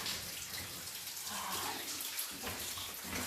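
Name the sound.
water dripping inside an old Welsh lead mine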